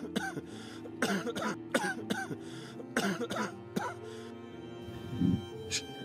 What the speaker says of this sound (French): Je n'ai réussi qu'à tousser et cracher du sang noir et visqueux.